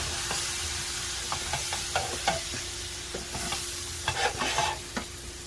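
Hotdogs sautéing in a pan beside a pot of rice give a steady close sizzle, with repeated stirring clicks and scrapes from a utensil against the pan.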